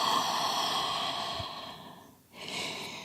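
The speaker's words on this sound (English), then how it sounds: "And exhale, open your mouth." Steady breathy exhale through an open mouth during a yoga session, a soft airy rush that fades out near the end, followed by a fresh intake of breath.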